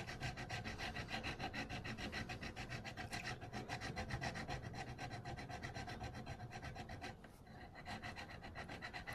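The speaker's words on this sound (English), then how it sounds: "make sure the slot is a little bit wider than the file is making it for the string" A file saws back and forth in quick, even strokes, cutting a string slot into a guitar nut. The rasping is steady and close but faint, with no talk, and eases briefly near the end.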